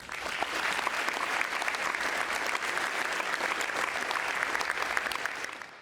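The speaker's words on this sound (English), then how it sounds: "I know that everybody will give him a round of applause." Sustained applause from an audience at a high school athletics signing day, dense steady clapping filling the room from start to finish before tapering slightly at the end.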